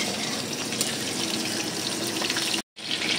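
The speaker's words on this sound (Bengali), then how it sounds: "উপর থেকে জলটা দিয়ে দিব, খোসাটা দিব না।" Water poured into a pan during cooking of a Bengali hilsa and poppy-seed curry, a steady close splashing rush that runs nearly throughout, broken by a brief silent gap near the end.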